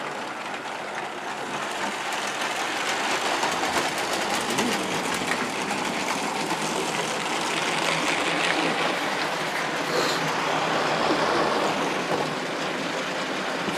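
A Lego 60051 high-speed passenger train runs laps around its plastic track, giving a continuous whirring motor drone with rattling wheel clatter that stays steady and close throughout.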